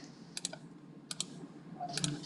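Keys tapped on a TI-84 graphing calculator, three small clusters of quick double clicks, close and quiet against a soft background hiss.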